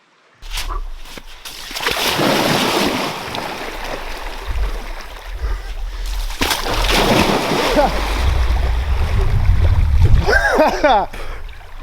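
Continuous splashing and sloshing of river water close by as people wade and swim, with voices mixed in and a brief burst of laughter or yelling near the end.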